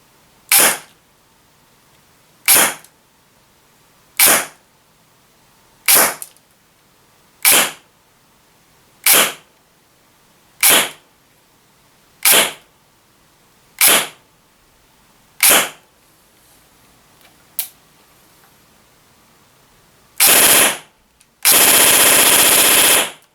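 An Ares APC-9K airsoft SMG fires 0.3 gram BBs on an 11.1 V LiPo battery through a chronograph, ten evenly spaced sharp single shots, then a short burst and a longer sustained burst of full-auto fire at the end.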